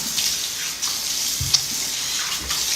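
Tap water runs steadily during face washing with cleansing soap, a soft continuous splash close by with small bumps and splatters throughout, no voices.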